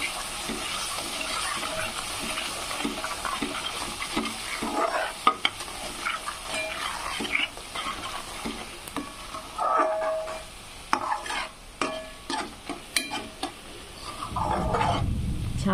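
Masala for egg curry frying and being stirred in a pan: a steady close sizzle broken by scraping stirs and occasional clinks, continuous for the whole stretch with no voices.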